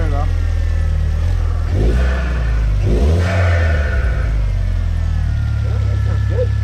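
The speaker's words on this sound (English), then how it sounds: "That blow-off valve's working real good now" A modified car engine idles with a heavy low rumble and blips its throttle a couple of times, with the short hiss of a blow-off valve releasing after the revs.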